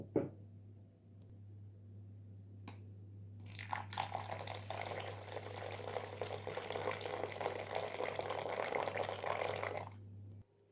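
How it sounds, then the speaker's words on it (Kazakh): Hot, just-boiled water is poured over rice in a bowl, a continuous splashing, gurgling stream that starts after a few faint knocks and runs for about seven seconds before stopping abruptly, close up. "Енді үстіне жаңғы суымызды құямыз."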